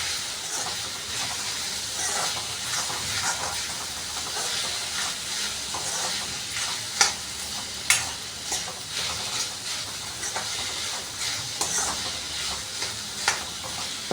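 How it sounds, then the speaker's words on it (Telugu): Okra pieces and potato fry in an open pan with a steady, loud sizzling hiss, broken now and then by sharper pops and spatters, and no voice. "మూత లేకుండానే బాగా జిగురంతా పోయేంత వరకు ఫ్రై చేసుకోవాలి."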